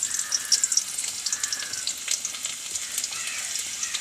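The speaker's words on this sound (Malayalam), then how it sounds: "അപ്പോൾ എണ്ണ കാഞ്ഞു, ഉള്ളി ഇടുന്നു." Sliced onions sizzle in hot oil in a pan while cooking a fish curry, a steady bright crackle with small pops and occasional stirring, close and uninterrupted.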